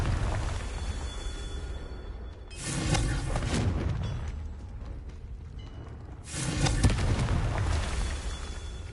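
Confringo blasting spell from Hogwarts Legacy going off as two heavy booming explosions several seconds apart, each a broad burst that decays into a low rumble over steady game ambience.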